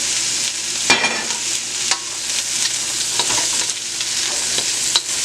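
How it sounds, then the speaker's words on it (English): Peppers being stirred in a frying pan for sweet and sour pork chops: a steady bright sizzle with repeated scraping strokes of a utensil, close and fairly loud, with no talk. "we'll just stir this up for a few minutes"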